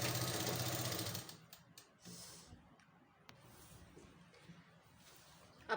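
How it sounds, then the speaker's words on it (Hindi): An electric sewing machine stitches along the edge of plazo pants, whirring loudly for about a second before falling away to quiet fabric handling and faint breathing. "इस तरह से किनारे में सिलाई लगा देंगे।"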